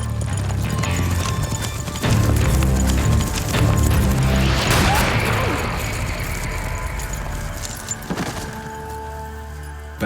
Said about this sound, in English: There's a fantastic horse chase.